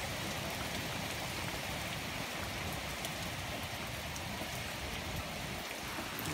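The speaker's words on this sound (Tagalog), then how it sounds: "Biglang lumakas ang ulan." Steady, heavy rain from a super typhoon pours down, a dense hiss of drops drumming on surfaces throughout, with no voices.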